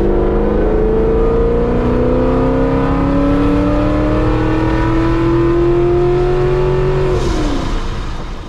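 A procharged Chevrolet Camaro makes a full-throttle third-gear pull, with a loud engine note climbing steadily for about seven seconds before it drops sharply as the throttle lifts.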